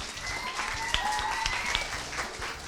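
A crowd of middle school students claps steadily for a few seconds during a drama class, dense overlapping applause with a few sharper claps standing out, fairly close.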